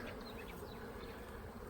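Honey bees buzz steadily on a hive frame during a hive inspection, a close, continuous soft hum with no talk over it.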